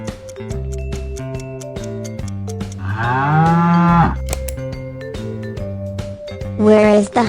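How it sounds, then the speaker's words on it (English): A cow moos in a long, loud low call rising and falling over a bouncy children's tune with regular beats, followed by a brief bright chime near the end. "Where is the cow?"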